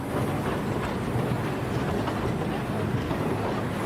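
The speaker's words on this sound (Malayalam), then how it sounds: "ടോയ് ട്രെയിൻ അതിൻ്റെ അവസാന ലക്ഷ്യസ്ഥാനമായ ഡാർജിലിംഗ് സ്റ്റേഷനിലേക്ക് അടുക്കുകയാണ്." Darjeeling toy train rolling toward Darjeeling station, a steady broadband rumble of wheels and carriage noise heard from on board, continuous and fairly loud throughout.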